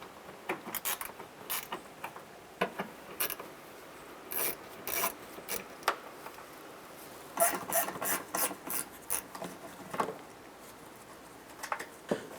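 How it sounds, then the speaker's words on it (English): A ratchet with a 7mm socket backs out a small lower bolt on the rear corner of a 2005-2010 Jeep Grand Cherokee front bumper cover, giving close, quick bursts of clicking and rasping. "Using a 7mm socket, I'm going to go ahead and remove the lower small bolt from the back corner of the bumper."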